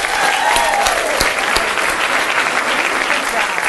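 Audience applause at a women's conference gathering, a dense steady clapping from a crowd that fills the whole stretch at full strength, with a brief whistle-like tone near the start.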